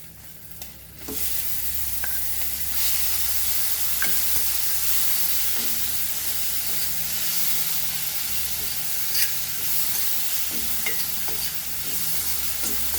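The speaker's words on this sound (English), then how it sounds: "On low flame, fry this nicely." Tomato frying over a low flame in a pan for masoor dal and rice khichdi, a steady sizzle and hiss throughout with occasional stirring clatter, close and continuous.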